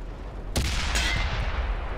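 A tank cannon fires in World of Tanks, a sharp loud blast followed a moment later by a second report, both trailing into rumbling low reverb with no talking.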